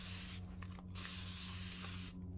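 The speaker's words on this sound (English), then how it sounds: "I gave it a double spray that time." Two quick bursts of a spray bottle misting water onto paper, sharp close hisses separated by a brief pause, over a faint steady hum.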